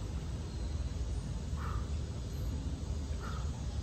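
Two hoarse crow-like caws, about a second and a half apart, ring out from a distance over a steady wash of outdoor noise in an area with many mango trees.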